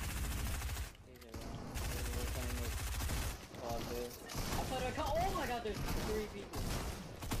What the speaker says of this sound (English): I was shooting at the wrong one!